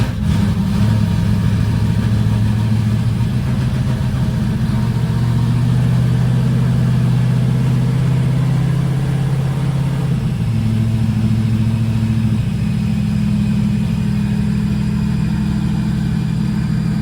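A 1968 Mercury Cougar engine idles loudly and close up just after start-up, a steady low rumble whose pitch dips and settles as the idle speed changes, with no voices.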